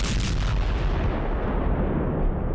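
A loud, deep explosive boom from a drone attack on a Russian warship near Crimea, with a rumbling roar that lingers and slowly fades.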